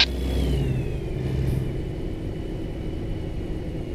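Kenworth KW truck engine rumbling steadily in a trucking video game, a continuous mid-pitched drone with a faint rising whine, heard alone without talk.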